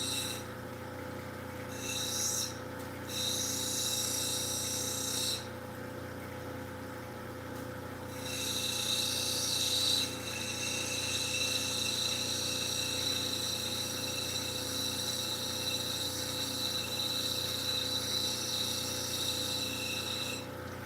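Opal ground on a lapidary wheel to form a bevel, with a steady motor hum and a high whirring grind that cuts out briefly, then resumes and holds evenly to the end.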